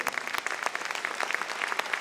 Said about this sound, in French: D'applaudissements pour Fabien Lecoeur.